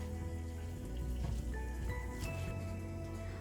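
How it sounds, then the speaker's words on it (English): Whole tomatoes are added carefully to a deep pot of boiling water, giving soft wet plops and splashes with a few bright clinks over the bubbling of the water. "To this water carefully we will add in all our tomatoes."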